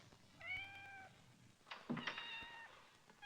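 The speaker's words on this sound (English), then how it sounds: "Still, I hate to hear a cat cry." A cat meows twice, two clear drawn-out cries close by, with light thumps and rustling in a quiet room between them.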